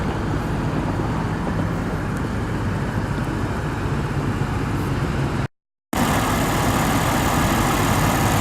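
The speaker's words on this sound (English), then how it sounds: "Lexus's amazing 5-liter V8 engine generating" A 2018 Lexus RC F's 5-liter V8 engine idling, a dense steady rumble heard up close with a brief cut to silence partway through.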